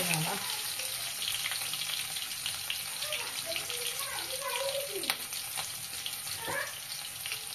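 Green chillies fry in hot oil for Gobi manchurian, giving a steady close sizzle with faint crackles and occasional stirring, while someone talks over it.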